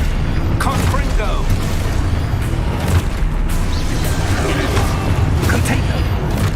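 Confringo blast spell going off in Hogwarts Legacy amid dense, continuous combat noise, with booming, rumbling bursts layered under loud battle effects and no clear pause.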